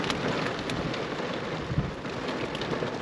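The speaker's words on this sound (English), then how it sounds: "Look at this lightning storm." Steady rain falls through a nighttime lightning storm at a roadside campsite, with a continuous hiss of drops and low rumbling underneath, wind mixed in, no voices.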